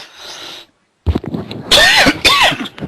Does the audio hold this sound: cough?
yes